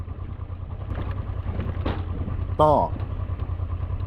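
A Honda XL700 motorcycle crawls over a rocky trail with a close, steady engine drone and a brief sharper rev; a voice says a single word.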